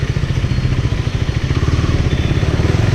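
A 2017 KTM Duke 390 single-cylinder motorcycle idles close by with a loud, steady, throbbing exhaust pulse, a rapid even thump from the pipe with no revving.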